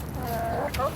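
Hens cluck softly in a small backyard while people talk nearby, a few brief clucks and fowl calls heard close under the voices.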